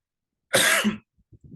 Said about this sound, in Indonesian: Mohon maaf saya batuk sekali ya.